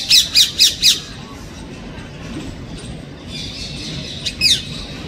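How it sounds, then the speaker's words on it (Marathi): A flock of parrots on a home balcony gallery squawks in a rapid run of four shrill, close calls, then goes quiet before two more squawks sound near the end. "सकाळ सकाळात भरपूर पोपट आलेत गॅलरीमध्ये"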